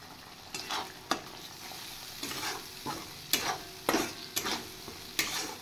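Spice paste of cumin, turmeric and chili powder fries in hot oil, a steady sizzle broken by intermittent scraping stirs of a spoon across the pan, close and fairly loud.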